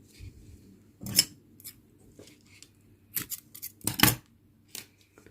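Scissors snip crochet yarn while an amigurumi tiger keychain is being made. Several sharp, close cuts come in separate bursts against a quiet background.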